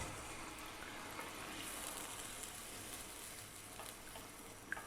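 Chicken broth, the liquid the chicken was cooked in, pours steadily into a pan of rice for Hainanese chicken rice, a continuous gushing splash lasting throughout with no talk.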